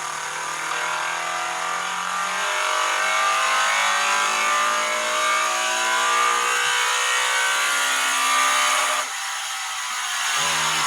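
A 1994 Honda Del Sol with a 1.5-liter single overhead cam four-cylinder runs with a steady, fairly loud engine drone. The note holds even for about nine seconds, then drops off and shifts near the end.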